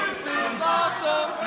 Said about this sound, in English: And the crowd here is getting behind it. Listen to this chant go.